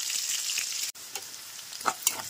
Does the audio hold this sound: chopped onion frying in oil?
yes